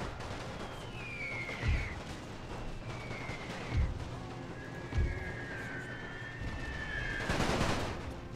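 Canister shots and rifle fire in a World War One strategy game: several deep, distinct booms spaced a second or so apart, with whistling shell sounds and a louder burst near the end, over a steady battle din.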